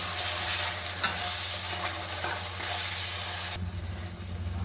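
Spice paste hitting a hot pan for begun sundori, an eggplant dish, brings a loud, dense sizzle and hiss that holds steady, then shifts near the end as frying continues, close and without talk.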